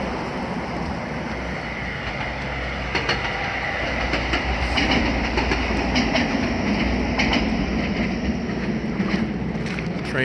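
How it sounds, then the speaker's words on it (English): A train rumbles past close by, wheels clacking rhythmically over the rails in a steady, loud stream with no talking. "Train sure doesn't get much of a break."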